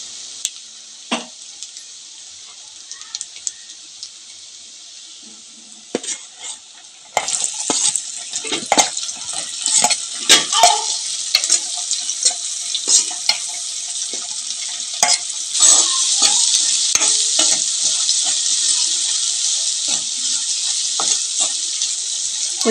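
Dried shrimp, chopped onions and green chillies fry in a pan: a steady close sizzle with a clear jump in loudness as the onions go in, then scattered clicks and scrapes of stirring throughout.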